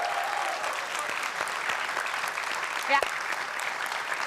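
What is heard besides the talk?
audience applause for athletes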